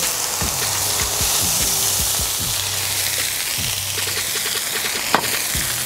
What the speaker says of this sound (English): We got some large to medium sized shrimp. We're gonna get down on the flat top.